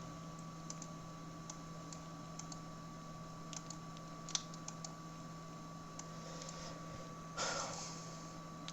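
Light typing on a computer keyboard during a CorelDraw Tamil-typing session, sparse individual key clicks scattered across the stretch over a steady electrical hum, with a short burst of louder clacking near the end.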